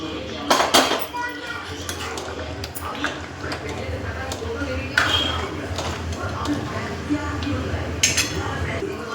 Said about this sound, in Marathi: हे कुकर धुवून टाकते मी आता.